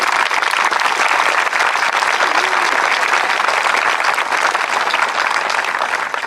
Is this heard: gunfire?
no